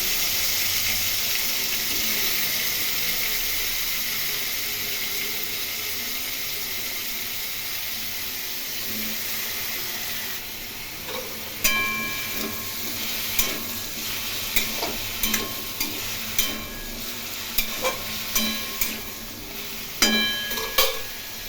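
Elephant foot yam and potato pieces fry in oil with dried chilli, cumin and onion, a steady hiss that turns into louder sizzling and stirring scrapes in the second half, with no talk.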